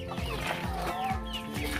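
Free-range chickens and turkeys on a farm, with steady clucking and low rhythmic calls repeating over a busy background, close and continuous without speech.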